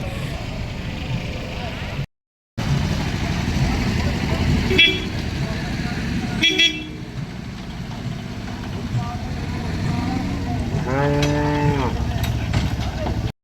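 Cattle low at the Chinapuram cattle market in Tamil Nadu, with heavy-bred cows and heifer calves around. One drawn-out moo rises clearly near the end over a busy, crowded market din, with people talking and a vehicle horn in the background.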